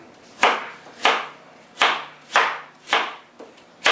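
A knife chops peppers for a habanero mango sauce on a cutting board, seven sharp, close, evenly spaced strikes, each with a brief scraping tail, sounding alone.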